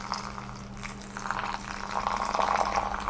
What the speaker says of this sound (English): first pour a little bit and let your tea bloom for a few seconds, and then we can pour high